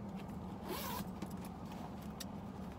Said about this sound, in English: Zip top closure.